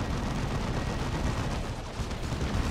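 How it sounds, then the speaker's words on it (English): In the Dawn of War 2 video game, a D-cannon fires on a Land Raider Crusader tank amid a battle of Terminators: dense, low rumbling weapon fire and blasts, fairly quiet and steady, with no talk. "D-cannon been gradually pecking away at this Land Raider Crusader"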